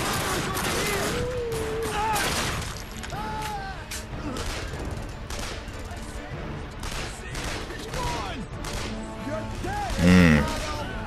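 Gunfire in the video game The Darkness 2, dense bursts of shots mixed with crashing impacts and game effects, loud and continuous throughout.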